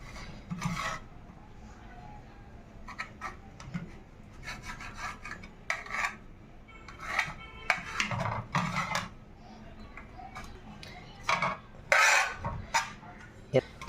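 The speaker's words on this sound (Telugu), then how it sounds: "ఇప్పుడు మనం ఈ బ్రెడ్ని ఇలా కట్ చేసుకోవాలి ఫ్రెండ్స్. 4 వైపులు కట్ చేసుకోవాలి." A knife trims the four crusts off bread slices: soft scraping and rasping strokes in irregular bursts, fairly close but quiet, with occasional light knocks against the board.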